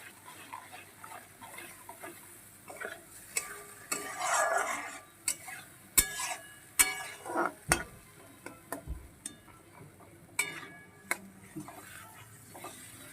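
Spices with salt and turmeric being sautéed in a pan for a potato, pea and egg curry, a spatula scraping and clinking against the metal in irregular strokes over a soft sizzle, close and alone.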